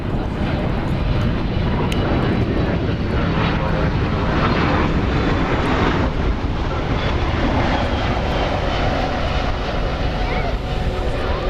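Airliner in flagship livery at Dallas/Fort Worth airport, a loud, sustained engine roar with broad rushing noise throughout, and a voice talking briefly underneath.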